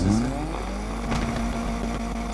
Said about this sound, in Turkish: Şu anki aracımızın sesi.